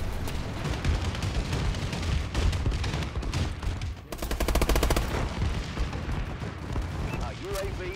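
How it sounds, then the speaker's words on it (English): Bombing-run explosions and heavy gunfire in Call of Duty Advanced Warfare, a dense, loud, continuous barrage with a rapid rattling burst near the middle, with voices talking over the din. "Friendly bombing run clearing the way."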